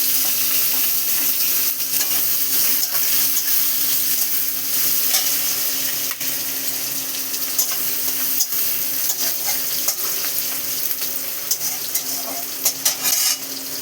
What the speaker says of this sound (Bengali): পেঁয়াজগুলো আমি ভালো করে ভেজে নিচ্ছি।